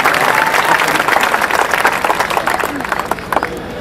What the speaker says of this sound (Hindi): एक बार पूरी कमेटी के लिए तालियां बजाएं साहब